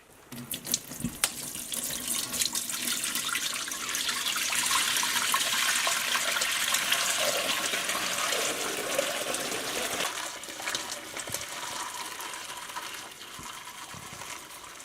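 Bone broth poured from a heavy pot through a strainer lined with cheesecloth: a continuous close splashing, gushing stream lasting about ten seconds, then tapering to a thinner trickle, with no talk.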